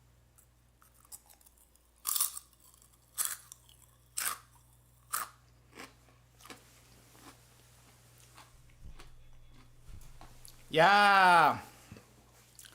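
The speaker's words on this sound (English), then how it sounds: "that's the crunch I was talking about from that potato" Someone crunches a potato snack from a TokyoTreat Japanese snack box, giving about seven crisp, close bites spaced a second or so apart. A voice briefly speaks near the end.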